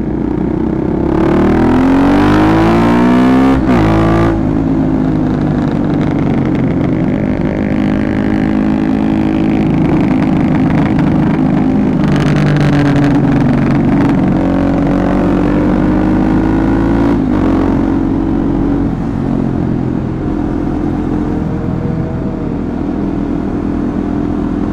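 KTM Duke 250 single-cylinder motorcycle fitted with an Aero ProRes exhaust, engine droning loud and close throughout while riding, with rising and falling revs and a sharp rev-up near the start.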